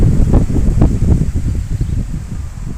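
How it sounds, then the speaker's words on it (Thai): Strong wind gusts across an outdoor microphone, loud buffeting rumbles that surge and fade irregularly, with rustling in the background and no voices. "ลมแรงมากครับ"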